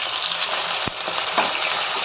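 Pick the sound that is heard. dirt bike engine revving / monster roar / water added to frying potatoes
water added to frying potatoes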